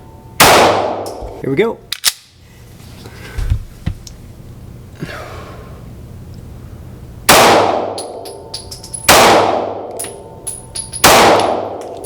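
Sharp, loud shots from a Taurus G3C pistol fitted with a TORO slide kit: one early report, then three more spaced about two seconds apart, each with a ringing tail, and a brief spoken phrase near the start.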